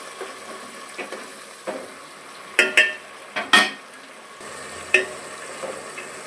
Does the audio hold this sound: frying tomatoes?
yes